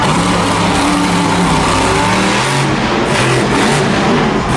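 A Monster Jam monster truck at a 2016 Anaheim freestyle run, its big engine roaring and revving loud and steady throughout, with broadband grinding noise and crowd din beneath it.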